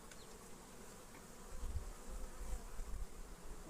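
Honeybees buzzing steadily across a hive frame of honey and bee bread during an early-spring inspection after wintering, a dense close hum that swells louder partway through.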